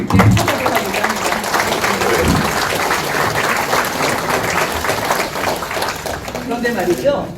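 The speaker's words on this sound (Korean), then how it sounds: "저희가 박수로 먼저 두 분께 축하드리도록 합니다." Sustained audience applause at a political unification committee rally, dense clapping held at an even level for several seconds before a brief swell near the end.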